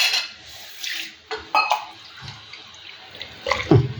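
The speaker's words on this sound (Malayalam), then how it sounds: "ഒരു ശകലം വെള്ളം കൂടെ ചേർക്കാം." Water is poured into a simmering anchovy curry, a few short splashing bursts with quieter gaps between them.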